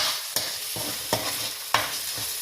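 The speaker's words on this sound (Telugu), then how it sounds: "ఉల్లిపాయలు మగ్గుతుండగా దాన్ని వాసన పోయేంత వరకు చాలా వేయించాలి" Onions frying with ginger garlic paste in a pan, a steady broadband sizzle broken by three sharp stirring scrapes at regular intervals, close and moderately loud with no talking.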